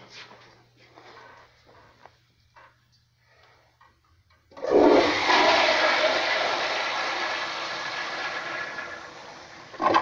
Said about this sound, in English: That one's got some flushometer issues.